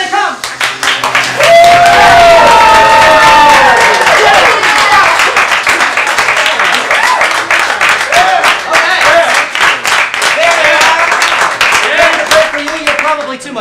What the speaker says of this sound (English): Too much applause.